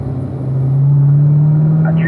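Close and loud, a car's engine drones on a race track as it starts accelerating, with its steady tone rising slightly, and no one talks over it.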